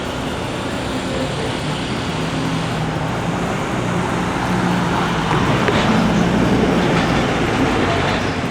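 A Metro North train rumbles through the Ossining station by the Hudson River, a continuous heavy roar of wheels and carriages that swells slightly louder toward the end.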